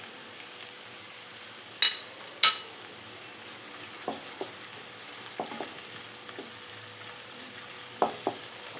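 Chopped green chilies and curry leaves sautéing in oil in a pan for egg rice: a soft, continuous sizzle with a few sharper scrapes and clinks of a utensil against the pan, close and quiet, no talking.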